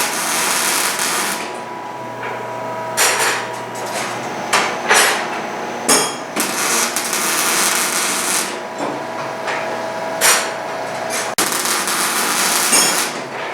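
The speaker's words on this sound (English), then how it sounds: "So we're going to weld the circles together now." Shop welding of wrought iron circles for lawn ornaments, with bursts of crackling arc noise, intermittent metallic clanks and a steady machine hum underneath, no voices.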